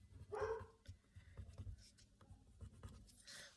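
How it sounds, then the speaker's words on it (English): A dog barks a few times in the background, faint and somewhat distant, amid scratching and handling noises close by. "You can probably hear my dog barking."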